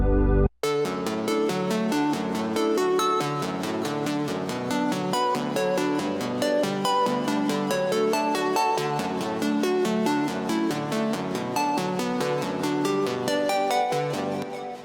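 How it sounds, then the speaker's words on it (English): Roland Jupiter synthesizer preset playing a dense, steady stream of rapid pulsing notes, loud and continuous for the whole stretch after a brief opening blip, alone without any voices. "I was just kind of playing around with the Jupiter and all the presets until I found this preset"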